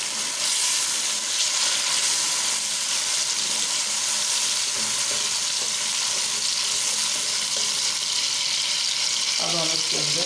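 Ground tomato paste hits a hot pan and fries with a steady, loud sizzle that holds throughout, a little stirring clatter coming through near the end.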